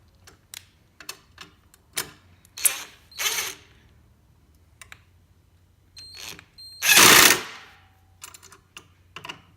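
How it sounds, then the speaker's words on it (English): Bolts are tightened with a 9/16 wrench during an Inject-O-Meter air pump swap, heard as a run of close ratcheting clicks and metallic ticks in short bursts, with a longer louder grinding burst near the end. "Tighten the bolts down."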